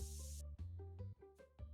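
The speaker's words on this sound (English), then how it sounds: "And spray." In the TCG Card Shop Simulator video game, a spray can gives a single short hiss at the start, followed by chiming game music tones.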